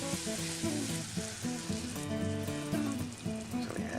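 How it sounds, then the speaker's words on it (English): Vegetables and warmed-through steak sautéing in a pan for a frittata, a steady close sizzle with stirring scrapes throughout. "A light saute, and then I'll add the eggs"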